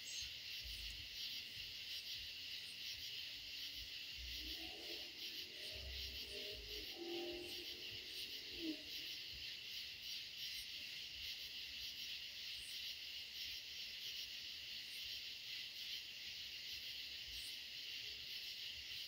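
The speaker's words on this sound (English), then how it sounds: "enjoying the sound of the frogs" Night chorus in a tomato garden, with a steady, dense high trill of crickets and frogs running unbroken throughout, plus a brief low rustle partway through; no talking.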